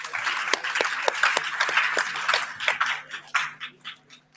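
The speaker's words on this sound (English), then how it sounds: "Let's have a huge round of applause for our partners" Applause for event partners at a day-one gathering: a crowd claps in sharp, dense bursts, loud at first, then thinning and tapering off near the end.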